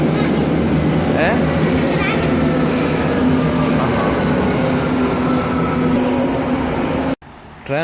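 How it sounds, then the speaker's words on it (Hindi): An underground train runs through Yorckstraße station in Berlin, giving a loud, steady rumble with squealing wheels up close, while voices talk over it before the sound cuts off sharply near the end. "ये हमारी अंडरग्राउंड ट्रेन आगे"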